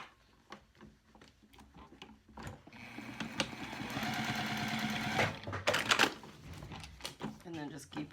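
A sewing machine topstitches a wallet in a short burst of rapid, rhythmic stitching, preceded and followed by ticking clicks and handling, with a voice talking.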